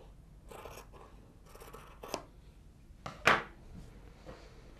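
Scissors snip through T-shirt fabric folded in half lengthwise, giving several soft, close cuts and then one sharper, louder snip near the end, with no talking.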